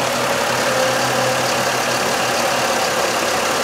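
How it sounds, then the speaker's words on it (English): A car engine idles loudly and steadily nearby during a head gasket test, a constant rumbling drone with no change in pace and no voices. "go ahead and start the car"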